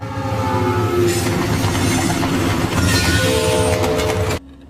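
Runaway freight trains in a cartoon rumble loudly along the rails, with steady clattering wheels, metallic squeals and horn-like tones, ending abruptly in near silence.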